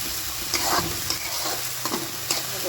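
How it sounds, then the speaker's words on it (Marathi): Onion with ginger and fresh coriander sautéing in a pan for a bitter gourd dish: a steady close sizzle with several sharp spatula scrapes and stirs against the pan, and no talking. "आता आलं कोथिंबीर थोडंसं परतून घ्यायचं आहे आपल्याला।"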